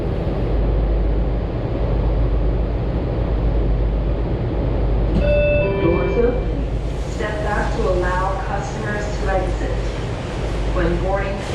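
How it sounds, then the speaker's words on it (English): Washington Metro Red Line train running toward Shady Grove, a steady loud low rumble throughout, with an onboard announcement voice and chime tones coming in over the noise partway through. "This is a red line train to Shady Grove."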